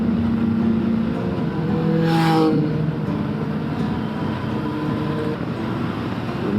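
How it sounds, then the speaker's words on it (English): A group of motorcycles passing on a rural road in Spain, a broad steady engine roar with a swell near the middle as bikes go by, heard from a riding motorcycle amid wind noise. "Oh, a load of bikers behind me. Let's let them go past."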